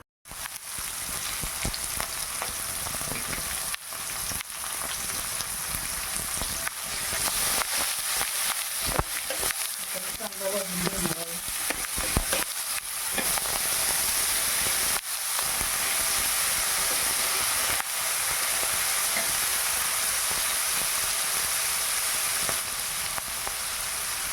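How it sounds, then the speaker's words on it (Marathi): Spices crackle and sizzle in hot oil, a loud continuous frying hiss with bursts of spattering, close to the listener, faint voice in the background. "तरी आता आपण फोडणी देऊया."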